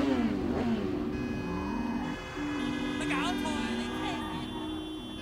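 A moped engine in the video game Sleeping Dogs, revving and droning with rising and falling pitch sweeps. It runs near and loud throughout, with a short dip partway through.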